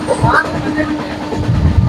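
Train journey in West Bengal, with a steady low rumble of the moving carriage running continuously, partly under indistinct voices.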